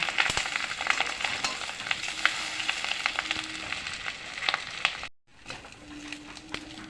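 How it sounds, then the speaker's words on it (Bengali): Fish roe fries in hot oil in a kadai with a continuous close sizzle and light spattering, stirred now and then, with a brief cut to silence before the frying resumes more softly. "মাছের ডিম ভাজা হয়ে গেছে"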